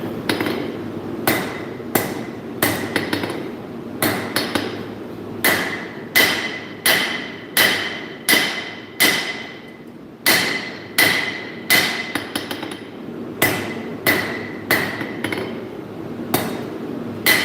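A hammer forges a knife blade, one of a batch of 16, in steady rhythmic blows. Each bright ringing strike is close and loud, with short pauses between runs of hits and no voices.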